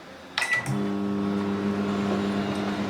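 Microwave oven cooking uncovered veg pulao: a door click and beep, then a steady low electrical hum with buzzing overtones that runs on evenly.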